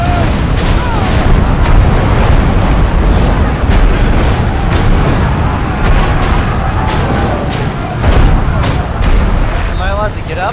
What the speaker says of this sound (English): Catapults! Fire!